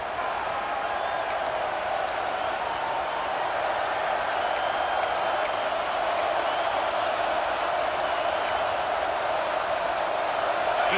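A dense, steady roar of a large college football stadium crowd at Alabama vs Wisconsin on third down, loud and continuous throughout, with faint scattered whistles and shouts rising above the wash.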